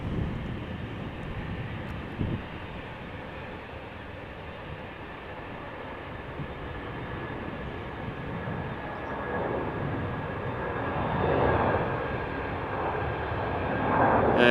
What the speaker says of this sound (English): I see that there is a queen taking off from center